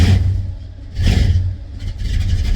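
A 1974 Plymouth Roadrunner V8 with a 500 cam and an exhaust leak runs close by, a loud lumpy rumble that swells in two brief revs over its steady idle.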